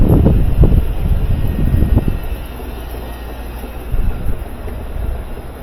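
The new motor in a GE washing machine spins the drum with a loud rumbling, rattling churn and thumps that ease into a steadier whirring hum, close by, without talk.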